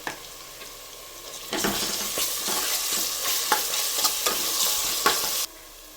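Ginger garlic paste hits a hot pan and sizzles loudly and steadily, with a spoon scraping and stirring in rhythmic strokes close by, the frying cutting off abruptly near the end.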